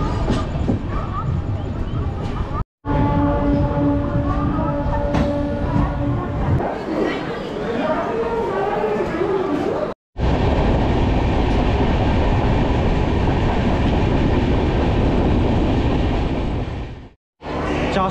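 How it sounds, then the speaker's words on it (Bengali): A moving Shalimar to Puri express passenger train, its loud continuous rumble and clickety-clack of wheels on rails heard from inside, broken by brief cuts, with faint rattles and squeals along the way. "এখনও চলছে ট্রেন।"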